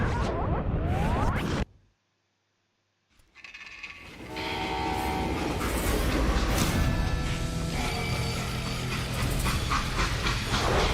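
A freight train in the western video game Call of Juarez Gunslinger roars loudly, cuts out for about a second of silence, then returns as a steady, heavy rumble with sustained tonal whines over it.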